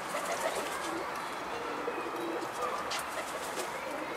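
A young racing homing pigeon, banded and hatched in 2021, coos softly amid a steady outdoor wash of background noise, its low calls faint and repeated, with no talking.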